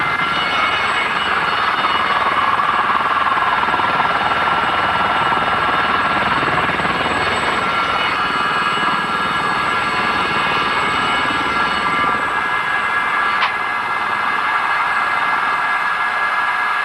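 A £1 million helicopter lifts off in a gentle takeoff and hovers, its engine and rotor roaring loud and steady throughout with no break.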